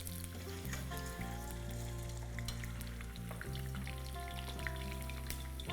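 Eggs sizzle in hot oil with garlic in a pan for an Afghani-style egg curry, a steady close crackling fry that runs throughout with no voices.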